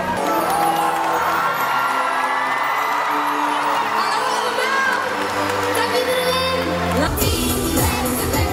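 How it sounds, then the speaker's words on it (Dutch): Young audience at a K3 girl-group first show day cheering and shouting loudly and continuously, high excited voices and whoops filling the space, a burst of louder screaming near the end. "Geef ze een daverend applaus."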